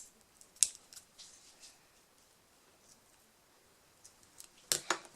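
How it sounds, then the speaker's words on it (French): Scissors snip through dried glue on a handmade cardboard-and-string cat toy mouse. Two sharp close snips sound, one near the start and one near the end, with faint rustling and quiet between them. "Je viens ensuite couper la colle là."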